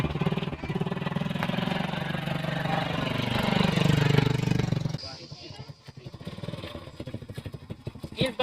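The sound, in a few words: motorcycle engine idling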